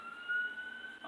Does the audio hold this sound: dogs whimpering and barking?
no